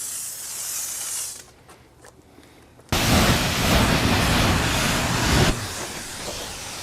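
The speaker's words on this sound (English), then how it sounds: "Now we are using an APC on the tires to clean them first." All-purpose cleaner sprayed onto car tires during an exterior detail, heard as a loud, steady broadband hiss of spray that starts abruptly and runs for a few seconds after a quieter stretch, with no talking.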